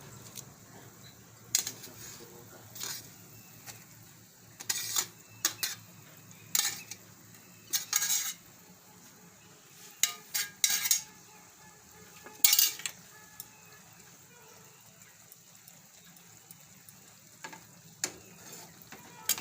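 Okra being stirred in boiling yogurt in a pan for dahi bhinda shaak, with intermittent spoon scrapes and clinks against the pan over a low simmer, spaced irregularly across the stretch.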